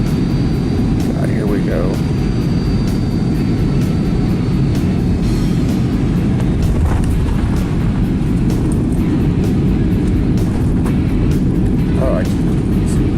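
A passenger airliner lands hard, with a loud, steady roar of engine and rushing air filling the cabin throughout and a few brief knocks, while a person mutters quietly over the noise.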